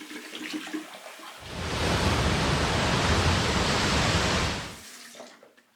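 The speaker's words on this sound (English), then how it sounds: "let me rinse off real quick" Running tap water splashes steadily for a few seconds while someone rinses off after a shave with a Parker SoloEdge razor, rising abruptly and cutting off, with faint handling sounds before and after.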